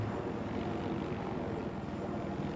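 A video game helicopter hovers and drifts with a steady, loud rotor and engine drone, a dense continuous throb heard alone without talk.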